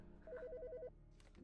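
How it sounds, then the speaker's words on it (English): A phone rings in the game Autopsy Simulator, one short burst of rapid electronic trilling, clear and fairly close against a quiet background, then stopping. "The fucking phone."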